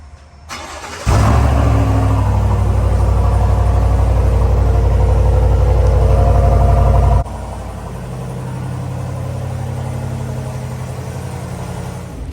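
A 2022 GMC Sierra 1500 AT4 pickup fires up with a sharp start, then holds a loud, steady engine drone that drops to a quieter, even hum as it drives on, with no talk.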